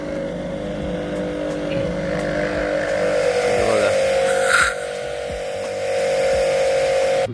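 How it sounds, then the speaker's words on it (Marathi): A pressure washer motor used for washing a bike drones steadily and loudly up close, a constant mechanical hum that shifts slightly in pitch as it draws water and builds pressure, with a brief spoken word. "आता आधी मोटर पाणी ओढून घेईल, मग नंतर प्रेशरनं चालू होते."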